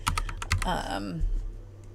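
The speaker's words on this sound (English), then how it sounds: "I am using right now my keyboard to do this just because it's easier for typing." Typing on a computer keyboard while filling in blanks in the Moonlight Peaks demo: several quick clicks and taps in the first half, then a voice speaks over the rest.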